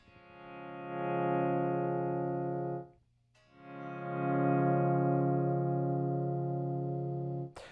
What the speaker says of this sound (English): you pluck the strings and then you let the notes ring as you fade in the volume